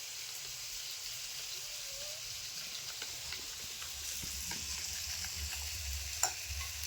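Masala for Kalaburagi hotel-style paneer paratha being stirred and fried in a pan, with a steady close sizzle, soft scraping strokes throughout and a brief louder clatter near the end; no talking.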